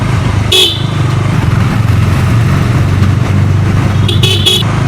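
Road noise from a moving motorcycle filmed on a handlebar camera mount, with steady engine rumble and wind, while car horns toot briefly near the start and again near the end.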